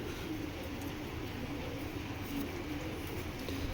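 A Dutch Golden Eyes pigeon cooing faintly in a noisy loft, with soft repeated low coos set against steady background hiss and hum.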